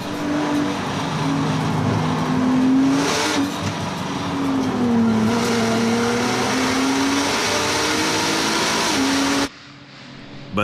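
Race cars roar past on the circuit at the 24 Hours of Nürburgring 2011, a loud sustained engine drone with rising and falling pitch as cars pass, cutting off abruptly near the end.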